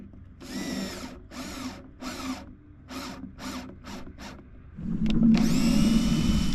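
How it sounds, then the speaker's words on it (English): Power drill boring holes for mounting screws for a rope clutch on a sailboat deck, in a series of short bursts followed by a longer, louder continuous run, close up with no talking. "I am drilling for the mounting screws."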